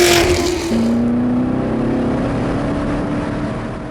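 C7 Corvette lapping the West Course at NCM Motorsports Park, a steady engine drone holding a rising then sustained pitch after an opening whoosh, close and loud, with no talking.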